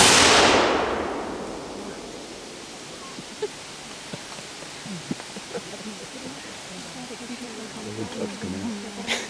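A militia musket volley at a graveside dedication cracks out as one loud burst at the start, followed by a long fading rumble and quiet outdoor ambience with faint distant sounds.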